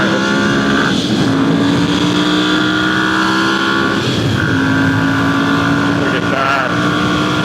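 A Ducati Monster 1100 motorcycle on Diablo Rosso tires drones steadily at high speed during a late night ride, its engine pitch holding and rising through gear changes, with a rider's brief remark over it.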